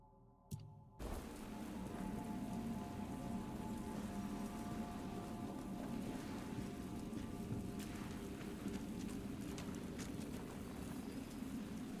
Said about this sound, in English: Summon a burning rain of fire within an area for 12 seconds.